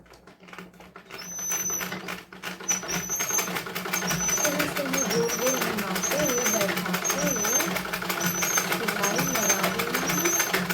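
A sewing machine stitches a blouse seam, its rapid mechanical clatter running steadily throughout while someone speaks over it, the stitching close and moderately loud.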